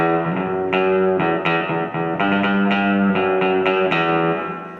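Electric guitar through a Fender Princeton Reverb amplifier picking out a twangy melody, the notes ringing into a wash of reverb, close and fairly loud.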